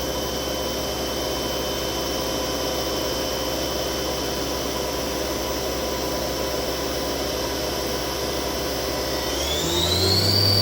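The spindle of a Leadwell V-25 vertical machining center spins at high RPM with a loud, steady whine and airy hum, rising in pitch near the end as it speeds up.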